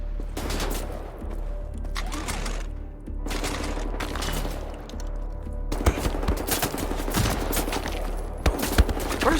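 Enemy fire in Wolfenstein: The New Order comes as sustained volleys of close gunshots, broken by short lulls, then dense rapid shooting with sharp individual cracks.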